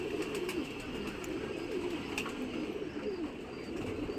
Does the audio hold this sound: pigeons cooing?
yes